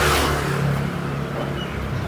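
A small Japanese-style K-car drives along a street on Cijin Island, making a brief, fairly close engine rumble that fades slightly as it passes.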